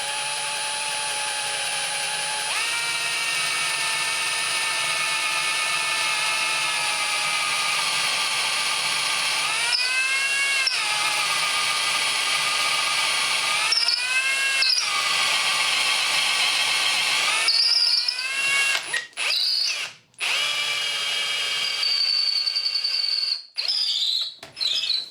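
Power drill boring a hole while making a mixer tap handle removal tool, a loud, steady, high-pitched whine running close and continuous, with pitch dips and brief stops and restarts near the end.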